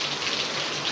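Heavy rain pours down steadily outside a home, a dense, even hiss of falling water with no break.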